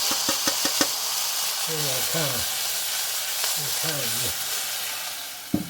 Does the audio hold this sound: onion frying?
yes